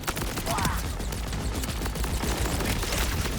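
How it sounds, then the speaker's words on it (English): Shoulder turrets firing in Borderlands 4, a rapid, continuous volley of gunshots mixed with other combat noise throughout. "I'm gonna hit my action skill thing here, which gives me these shoulder turrets."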